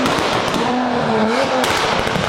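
Exhaust pops and crackling bangs from a 1500 hp Toyota Supra tuned to shoot flames, loud and close over a steady engine roar, with a sharp burst near the end.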